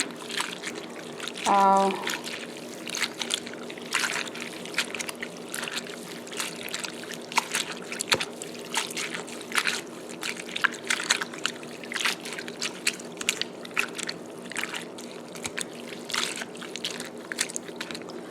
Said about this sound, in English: I just add some water in.